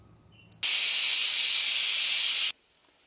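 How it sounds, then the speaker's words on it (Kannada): A pressure cooker whistle shrieks on the stove while ghee rice cooks, one loud continuous blast of steam lasting about two seconds that starts and cuts off abruptly, preceded by a small click. "ಒಂದು ವಿಷಲ್ ಬಂದಿದೆ"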